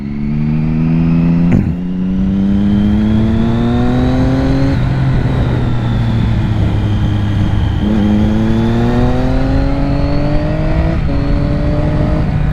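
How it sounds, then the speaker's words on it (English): A 2006 Triumph Daytona 675 motorcycle accelerates hard through clutchless upshifts, its loud engine climbing in pitch and dropping sharply at each gear change, heard close and continuous from the rider's position. "those clutchless upshifts are so good"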